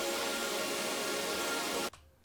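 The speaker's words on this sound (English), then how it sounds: "I've got 3 different pads layered on top of each other." Three synth pads layered together in an electronic music production form a dense, sustained, bright chordal wash that plays steadily and loudly before cutting off abruptly near the end.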